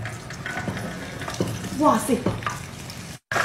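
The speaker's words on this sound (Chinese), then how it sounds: "油已经热了，放一个试一试。" A cleaned French giant snail dropped into hot oil: bubbling, crackling sizzle up close, with a brief exclaiming voice over it and a short dropout near the end.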